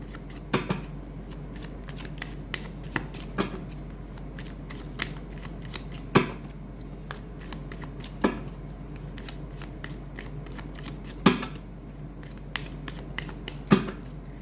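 Tarot cards shuffled by hand close up, a steady papery riffling and rustling broken by sharper snaps every couple of seconds, with no voices over it.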